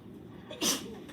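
A single short, sharp sneeze bursts out in a classroom during a precalculus lesson, fairly close and over faint room hum.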